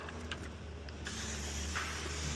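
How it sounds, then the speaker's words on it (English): A spray bottle mists water onto a Range Rover Sport window during tint installation, a steady soft hiss lasting a couple of seconds, close and fairly quiet, no talking. "Spray down the window."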